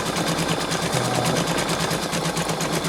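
A Brother Innov-is 2800D embroidery machine stitches steadily up close, a fast, even mechanical chatter of needle strokes that repeats without pause.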